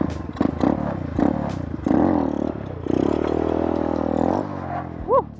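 A Grom clone stunt motorcycle fitted with an upgraded sprocket revs hard through a wheelie. The engine note rises and falls in loud, close bursts with some clattering, and ends in a short high whine.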